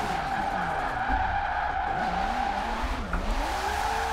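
A Nissan S14 drifting in Forza Horizon 4 lets out a sustained, wavering tire squeal over a steady engine drone, the pitch sliding up and down as the car holds its slide.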